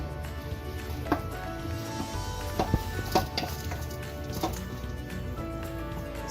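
Kale and shredded coconut fry in a pan while being stirred, in a South Indian kale poriyal; a steady close sizzle with scattered scraping and clinking stir strokes, and no talking.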